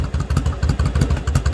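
A 2002 Yamaha V Star 1100 motorcycle with a repaired starter clutch idling up close, its V-twin engine thumping in a loud, steady, lopsided rhythm of low pulses.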